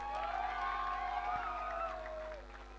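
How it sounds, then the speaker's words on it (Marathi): Spectators at a village cricket tournament in Nagaon raise a distant, mixed roar of cheers and whoops, with a drawn-out shout rising over the crowd before it fades out. "नागावकर एकदा जोरदार टाळ्या आणि आवाज होऊन जाऊ देत."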